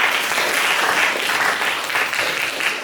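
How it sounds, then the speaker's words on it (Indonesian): A classroom of students applauds a presenting group, steady dense clapping from a roomful of hands, fairly close and even in loudness throughout. "Tepuk tangan buat teman kelompok 1 ya."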